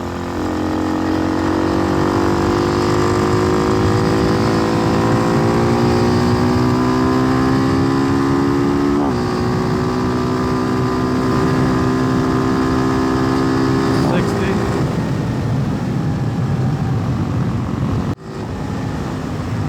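Hawk 250 motorcycle fitted with a Loncin RE250 engine and Nibbi PE30 carburetor pulls up a hill in fifth gear, a loud steady close engine drone with rising pitch, shifting twice before easing off near the end.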